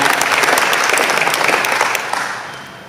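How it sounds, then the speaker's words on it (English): A club meeting audience gives Jim a big round of applause, a dense wash of many hands clapping steadily and loudly before thinning out and fading over the last second. "Let's give Jim another big round of applause for that."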